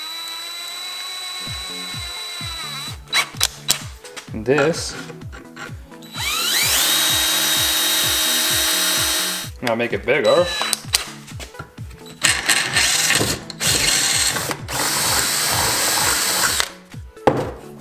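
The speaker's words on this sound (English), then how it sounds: "So we're gonna drill a hole" A power drill bores a hole through a metal heat-sink-like bracket during a budget turbo LS engine build, whining in repeated loud bursts and stops with clicks and clatter between them while a person talks.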